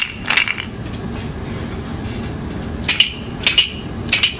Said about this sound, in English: you shake the blue ones, see if you can find one that sounds the same as this one